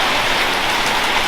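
Heavy rain pours during an afternoon thunderstorm, a loud, dense and unbroken hiss close by, with no thunder and no voices.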